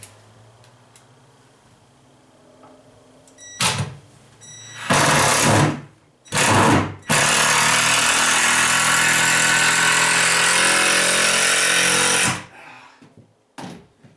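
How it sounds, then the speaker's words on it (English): A power drill pre-drilling holes in wood while working on an old heater: a couple of short whirring bursts, then one long sustained drilling run, followed by brief taps, close and loud. "Look at that, Bill's pre-drilling stuff"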